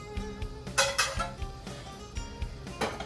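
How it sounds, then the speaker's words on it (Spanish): Guanciale goes into a pan of carbonara pasta with a few light clinks and scrapes of utensils against cookware, short irregular knocks close by. "Entonces agregamos nuestro guanciale a nuestra pasta"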